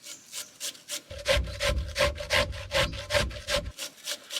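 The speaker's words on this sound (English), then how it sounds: "let's grate up some spuds" Potatoes are grated on a fine grater outdoors, a close rhythmic rasping in about a dozen quick strokes, loud and steady, with no talk.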